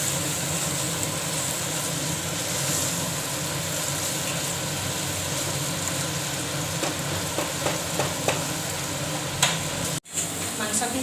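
Pieces of mutton frying in a pan for biryani, a steady close sizzle with scattered pops and occasional stirring scrapes, continuous for the whole stretch with a short clatter near the end.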